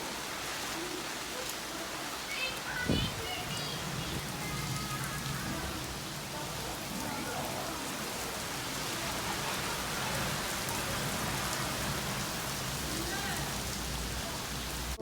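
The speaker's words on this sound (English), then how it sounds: "When it rains in Santa Ponza," Heavy rain pours steadily in Santa Ponza, a dense constant hiss of drops on surfaces with one brief low thump early on, no voices.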